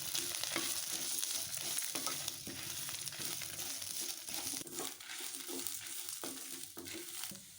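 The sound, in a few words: garlic, grated coconut and spices frying in a pan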